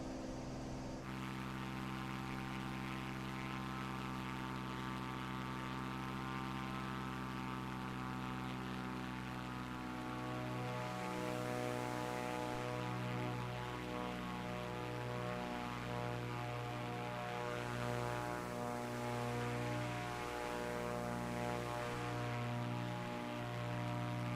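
Fixed-wing aircraft in Microsoft Flight Simulator 2024 on approach to runway 24, a steady droning propeller engine tone with strong hum that holds throughout, slightly swelling midway, with no talk over it.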